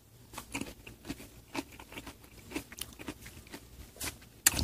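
Crisp, crunchy vegetable side dish (banchan) being chewed up close, a run of short crackling bites with a sharper crunch near the end, no talking.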